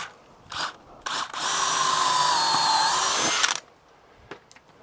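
A power drill drives a heavy-duty wood screw into a wooden anvil stand: a few short trigger blips, then a steady whirring run of about two seconds that cuts off abruptly, followed by faint handling clicks.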